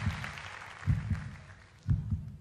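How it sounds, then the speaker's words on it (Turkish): A slow, muffled heartbeat thumps in double beats, three pulses spaced about a second apart, fairly soft against a faint background. "Ay enfarktüsten gider bu kalp atışı."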